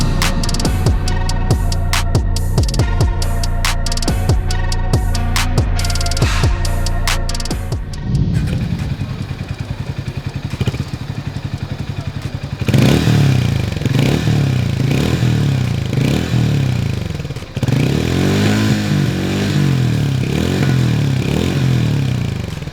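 A Harley-Davidson X440 motorcycle engine rumbles and throbs loudly up close, with clattery mechanical noise early on and then rhythmic revving surges, no talking.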